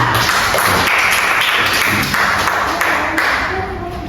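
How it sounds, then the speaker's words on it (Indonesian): Classmates clap together in an Indonesian classroom, a dense burst of fast overlapping applause that holds steady and then thins out near the end, with a few louder individual claps standing out. "Sartika, berikan aplaus dulu untuk teman kita"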